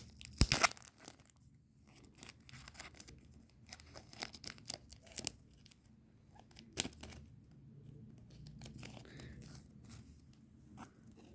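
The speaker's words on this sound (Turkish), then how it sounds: "Bunları da besmele ile açalım." Three football trading card packs are torn open one after another: sharp crinkly foil rips and crunches come in bursts, with softer rustling handling between them, close and fairly quiet, with no speech.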